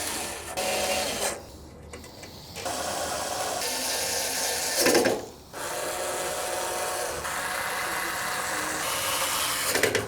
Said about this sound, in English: You're gonna need a Phillips screwdriver or a drill